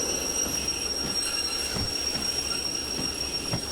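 Train slowing on the rails in the simulator game Derail Valley, with a steady loud rumble of wheels and car body, a sharp high squeal held throughout and a few clunks; no talk.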